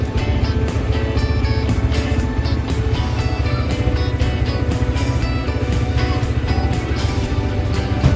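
Yamaha R15M motorcycles idle after a cold start, a steady, loud engine drone heard up close throughout with no talking.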